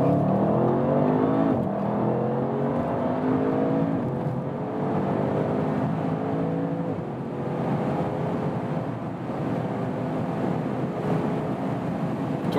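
An Audi RS7 Sportback with a 600 hp engine accelerates hard from about 40 km/h on the Autobahn, its engine note climbing steadily through rising harmonics, loud and close with a steady wind and road roar underneath, and no talk.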